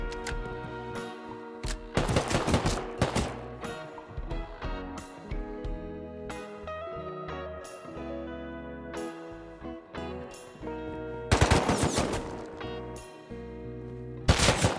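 AK rifle fire in the survival video game Rust: loud, sharp bursts of rapid shots clustered near the start and again near the end, with scattered single shots between, over a steady tonal game background.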